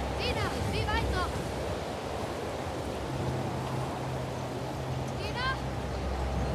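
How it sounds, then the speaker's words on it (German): Wind blows steadily and loudly in The Last of Us Part 2 video game, a constant rushing gust with a few faint bird chirps at the start and near the end. "Aber sehr windig, Junge."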